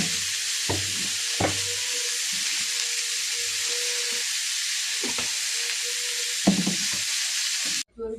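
A vegetable curry sizzles steadily in a pan, a loud continuous frying hiss broken by several scraping stirs of a spoon, with no talk.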